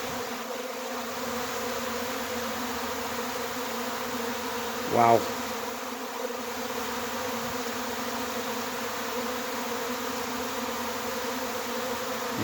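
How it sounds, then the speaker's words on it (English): A honeybee swarm settling into a hive makes a dense, steady buzz that fills the whole clip, loud and close, with one brief exclamation from a person standing among the bees. "can you hear them just going crazy?"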